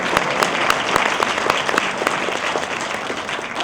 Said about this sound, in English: Please give yourselves the biggest round of applause.